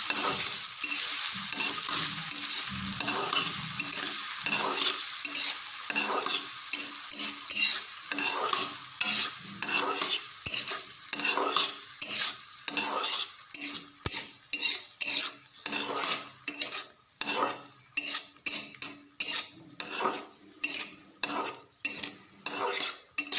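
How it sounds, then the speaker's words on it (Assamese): Steady sizzling of tomatoes and peas frying in a pan, with repeated scraping and stirring clatters growing more rhythmic toward the end; no voices. "এতিয়া বিলাহী মটৰখিনি ভাজি দিছোঁ।"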